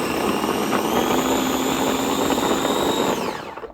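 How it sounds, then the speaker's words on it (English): A small electric food chopper whirs steadily as it chops tomatoes and onion for low-carb pico de gallo, a loud continuous motor drone that winds down at the end, with no talking. "So I just put them back in my little chopper."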